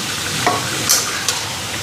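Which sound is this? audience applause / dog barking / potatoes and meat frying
potatoes and meat frying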